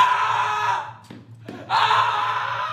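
A man in a stage production of Exit the King lets out two long, loud, strained screams, separated by a brief pause, from close by.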